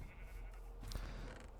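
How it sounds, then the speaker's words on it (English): Sheep in an automatic sheep farm in Minecraft bleat briefly, a short in-game animal call sounding close over a steady low background hum. "And then we've got automatic sheep."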